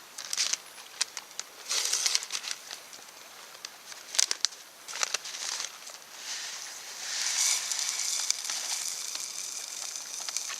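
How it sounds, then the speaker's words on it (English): Water heating toward a rolling boil, giving a steady broadband hiss with soft crackles and bubbling that swell and ease, rising slightly toward the end. "It's going to be a raging boil here in a minute."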